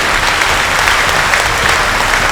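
An audience claps loudly and continuously, a dense, even wash of many hands with no pauses and no voices on top.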